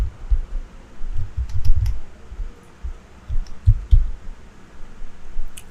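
Someone types on a computer keyboard while working on a design, giving short irregular bursts of soft, muffled key taps, close by and quiet.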